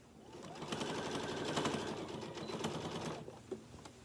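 A sewing machine quilts down a seam of a quilt sandwich in one continuous close run of rapid, even stitching lasting about three seconds before stopping.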